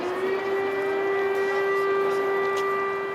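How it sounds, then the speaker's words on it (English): An air raid siren wails across a city in Ukraine as people hurry for metro shelters, a loud steady tone holding without a break, with faint street noise beneath. "The air raid sirens are irregular now."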